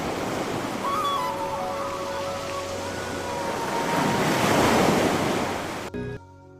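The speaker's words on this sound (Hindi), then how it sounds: "मंदिर के पीछे अरब सागर की अनंत लहरें" Arabian Sea waves wash in behind Somnath temple as steady, broadband surf with a slow swell in loudness and some wind, close and continuous with no talk before cutting off abruptly near the end.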